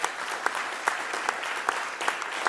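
A room of people applauding a school district's faculty at a board meeting, broad steady clapping with a few sharper accents, fairly faint and heard from a distance, with no talk over it.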